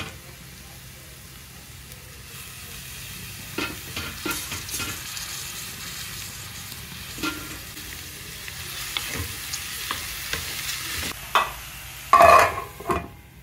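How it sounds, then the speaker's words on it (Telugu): Fenugreek leaves fry with onions and chillies in a pan, a steady sizzle under repeated scraping stirs that grow busier toward the end, closing with a loud spatula knock and no speech. "మెంతికూర వేగిపోయిందండి"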